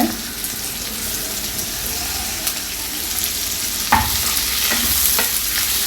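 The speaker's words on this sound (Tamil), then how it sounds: "இப்போ இதெல்லாம் சேர்த்து நம்ம வறுத்துக்கலாம். இப்போ தக்காளி சேர்த்துக்கலாங்க." Tomatoes and spices fry in oil in a pan, giving a steady close sizzle with a few scraping stirs and small clinks over a constant hiss.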